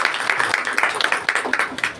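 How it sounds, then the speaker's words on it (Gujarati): An audience at a public function claps together in a brief round of applause, sharp rapid claps running throughout at moderate loudness, with faint voices underneath. "અને સાહેબો માટે એકવાર જોરદાર તાળી થઈ।"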